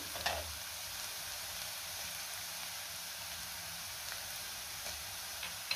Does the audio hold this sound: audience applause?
no